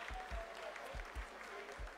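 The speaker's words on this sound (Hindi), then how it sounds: "आप तालियों के गड़गड़ाहट से सुन सकते हैं" Applause fills the mission control room during the Chandrayaan-3 lunar landing's vertical descent phase, a steady faint roomful of clapping with a few louder low thumps, heard at a distance.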